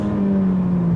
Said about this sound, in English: The best bit about this new 430 is the engine.